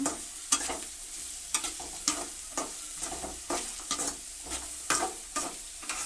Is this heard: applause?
no